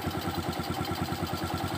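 A carbureted engine idles at a low, even speed, with a rapid rhythmic putter that stays close and steady throughout.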